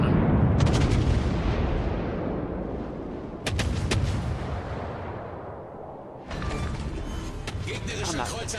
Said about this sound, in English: Full volley on him.